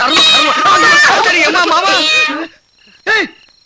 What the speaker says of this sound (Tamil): இது என்னப்பா பூனை குறுக்க போகுது?